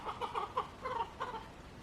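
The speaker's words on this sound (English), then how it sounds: "pardon the chicken in the background" A chicken clucks softly in the background on a homestead, a string of quick, faint, muffled clucks in short bursts against a quiet backdrop with nobody talking.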